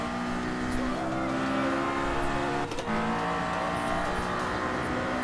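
Honda S2000 engine from GT Sport, a racing video game, holding a steady high rev with a sustained harmonic whine throughout, loud and continuous, with a brief dip near the middle.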